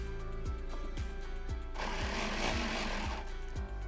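A sewing machine quilts a wave pattern along a ruler line with a quilting template, its motor humming under a steady rhythm of regular stitching thumps that grow busier and noisier partway through; nearby and uninterrupted, with no talking.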